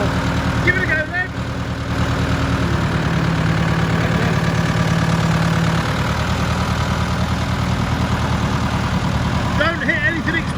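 A JCB digger's diesel engine runs steadily after being repaired, a loud, continuous idling rumble throughout, with people talking over it.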